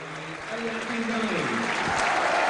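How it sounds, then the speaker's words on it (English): A stadium crowd at a Burnley v Stoke City Championship football match in 2007 applauds a substituted player, a steady broad roar of clapping building slightly while a commentator talks over it. "he'll get a good round of applause"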